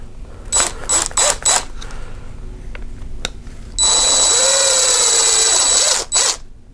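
A small driver seats screws in an RC mini rock crawler, with several short whirring bursts followed by a longer sustained whine that ends in a final brief spin, close and loud, with no talking.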